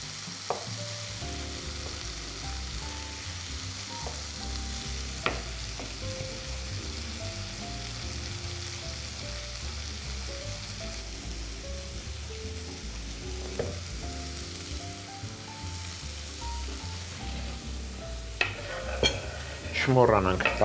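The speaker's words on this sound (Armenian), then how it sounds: "Չմոռանանք տապակվող բանջարեղենի մասին" Vegetables fry in a pan for a savoury pie, a constant close sizzle and crackle with occasional clinks and scrapes of a utensil against the pan, growing busier toward the end.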